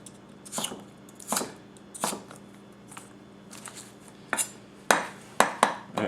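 A Masakage Koishi 270mm gyuto rock-chopping celery stalks on a board: a series of crisp, close chops, loosely spaced at first, then sharper and quicker toward the end, with no talking.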